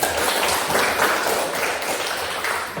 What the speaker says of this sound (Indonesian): Tepuk tangan dulu untuk Excel